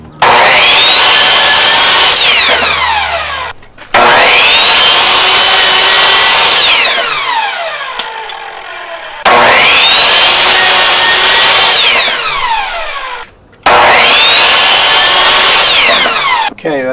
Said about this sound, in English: I have a piece of wood clamp to raise it up so that this is level all the way across while it's being cut